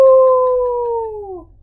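A human voice imitates a wolf howl: one long, loud, steady tone that sinks slowly in pitch and fades out after about a second and a half.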